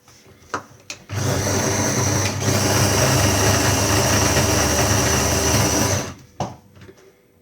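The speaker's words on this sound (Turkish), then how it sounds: "Bunu böyle bu şekilde doğrayıp rondonun içine ekleyeceğiz." A food processor whirs loudly for about five seconds of steady chopping nuts, with brief clicks and knocks before and after.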